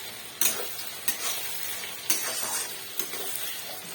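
Food frying in a home kitchen pan gives a steady sizzle, broken by several sharp scrapes and clacks of stirring at uneven intervals, with no talking.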